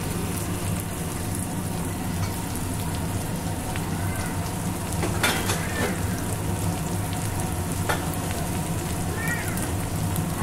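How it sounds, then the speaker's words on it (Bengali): Onion frying in oil in a pan for a kakrol and shing fish curry, a steady crackling sizzle with scattered small pops and light clatter heard close by. "পেঁয়াজটা একটু হালকা লাল লাল করে ভেজে নেব"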